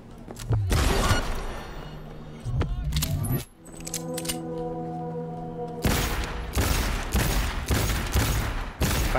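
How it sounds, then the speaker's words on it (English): Gunfire in the video game Cyberpunk 2077: loud bursts of rapid shots in two clusters with a brief lull between, metallic clinks and a humming tone in the gap, and a voice faintly underneath. "They're shooting at me."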